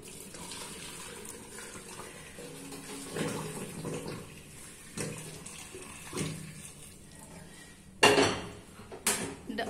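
Hot water poured from a pan into a pot to steam Rajasthani dhokla on a gas stove, a quiet splashing flow with metallic clanks and knocks from the cookware, ending in a few louder bursts.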